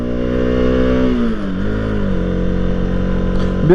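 A Bajaj Pulsar RS200 motorcycle engine holds around 6000 rpm on an uphill ramp, a loud, close, continuous drone that briefly dips in pitch and then steadies again, with no speech.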